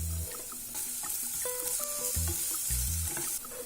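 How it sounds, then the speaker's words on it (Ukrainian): Onions sizzle steadily as they fry in hot vegetable oil in a preheated frying pan, with soft music playing quietly alongside. "У розігріту сковорідку наливаємо рослинну олію та обсмажуємо цибулю 2-3 хвилини."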